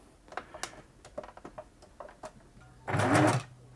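A 1980s Singer Futura sewing machine, stuck in reverse, gives a series of light mechanical clicks and taps, then one brief loud motor whir near the end, close by.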